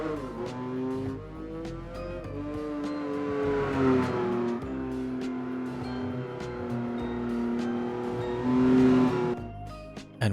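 A 2001 Honda Fit races a lap in the video game Gran Turismo 4; its engine drones continuously, climbing and falling in pitch through gear changes, with a brief surge near the end.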